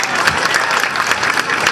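Audience applause at an Indonesian official ceremony for visiting environmental audit delegates, a steady wash of clapping from a seated crowd, even and continuous throughout.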